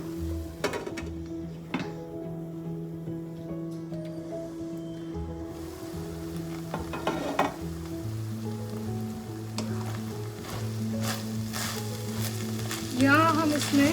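Minced meat frying in a pan for mini pizzas, a continuous close sizzle with stirring clatter and utensil knocks, a low steady hum underneath, and a brief louder burst near the end.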